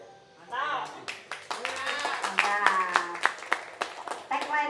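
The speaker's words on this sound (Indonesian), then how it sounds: "Tepuk tangan kita semua" An audience claps at a paint training event, with scattered hand claps swelling into steady, uneven clapping over a few seconds while voices carry underneath.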